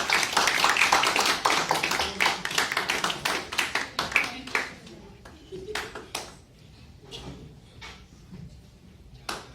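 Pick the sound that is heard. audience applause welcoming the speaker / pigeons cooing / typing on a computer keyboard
audience applause welcoming the speaker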